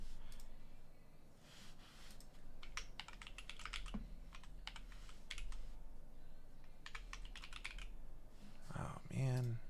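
Someone types quickly on a computer keyboard in close bursts of clicking keystrokes with short pauses between them. A voice speaks briefly near the end.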